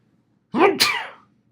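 A single loud sneeze close to the listener, sharp and sudden, followed by quiet.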